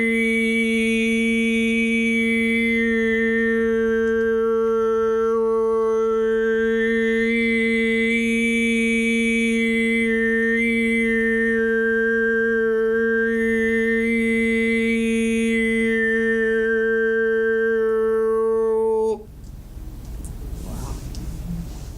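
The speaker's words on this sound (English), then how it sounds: "or harmonic singing." Overtone or harmonic singing: a steady voiced pedal drone with a whistling upper harmonic that slides between pitches for about nineteen seconds, then cuts off into faint room noise.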